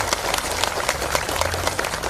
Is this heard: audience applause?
yes